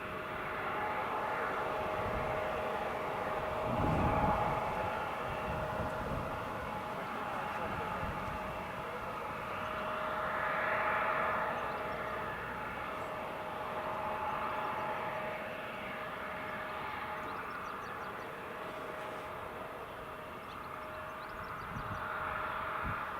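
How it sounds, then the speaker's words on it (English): An Air France Embraer 170 jet departs from runway 25, its engine roar a steady broad rumble heard from a distance. The noise swells gently and fades a couple of times, and a voice talks faintly beneath it. "The Air France Embraer 170 is just about to depart,"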